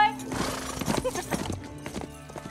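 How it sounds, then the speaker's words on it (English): A horse's hooves clip-clop in an uneven rhythm on a period-drama soundtrack, mixed with a whinny and background movement, fairly close and moderately loud. "this is a very real horse"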